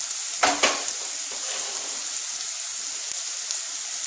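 Sliced onion sizzles in hot oil in a pan, a steady close frying hiss with a couple of brief stirring clatters near the start.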